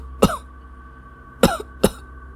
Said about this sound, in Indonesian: terdengar batuk keras